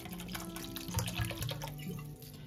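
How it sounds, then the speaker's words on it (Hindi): Water trickles and splashes into thick kadhi batter in a home kitchen, a steady close pour with small dripping accents and no talk. "तो अभी इसमें पानी और डलेगा क्योंकि थोड़ा गाढ़ा ज्यादा है ये।"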